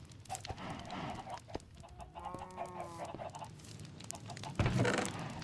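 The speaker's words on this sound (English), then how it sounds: "There's the chickens." Minecraft chickens cluck in short clipped calls, with one longer warbling call in the middle and a louder burst near the end, sitting close and clear against faint background noise.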